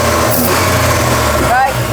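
A Volvo 240 engine fitted with Dellorto twin carburettors gets a quick throttle blip over its steady idle, the revs briefly rising then settling back, recorded close up.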